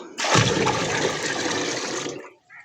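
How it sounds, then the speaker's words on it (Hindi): Water gushes steadily into a washing machine drum for about two seconds, a loud, broad rushing pour that cuts off abruptly near the end. "ये अभी और पानी भी डाल रहा है उमेर"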